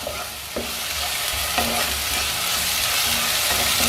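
Masala sizzles and fries in a hot pan while a utensil stirs and scrapes against it a few times, close and steady.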